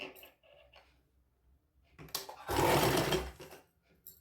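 A sewing machine stitches a finished edge on a child's sharara outfit, a close rattling whir that builds into a dense burst for about a second before easing off, with quieter handling noises before it.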